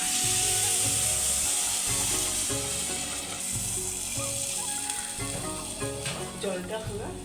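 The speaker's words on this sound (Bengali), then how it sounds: "এখন আমি এটাকে ভালো করে ভেজে নিয়েছি এখন জল দিয়ে দেবো" Broken wheat (dalia) dry-frying in a pan for dalia khichdi gives a loud, continuous sizzle, with a rhythmic thudding of stirring underneath and occasional lighter scrapes near the end.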